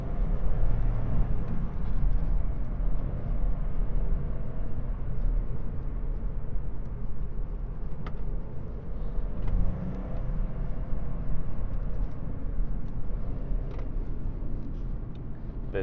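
A Seat Ibiza FR driven at night on a familiar road, its engine droning steadily from inside the cabin with road rumble and brief swells of revving throughout.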